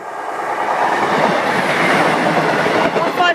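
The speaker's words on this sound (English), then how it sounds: "156, 498 to Doncaster with a bit of a silly wheel or something that sounds like broken." Class 156 train 156498 bound for Doncaster rolls past a level crossing at Rowston North, close and loud, a steady rumbling roar with rhythmic wheel clatter from a wheel that sounds faulty.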